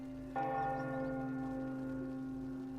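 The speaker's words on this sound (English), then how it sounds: "move forward a little bit and we hear the church bells." Church bells in Metro Last Light Redux, in an underground city: a single clear bell strike rings out and its tone hums on for a couple of seconds, fading slowly over a soft background drone.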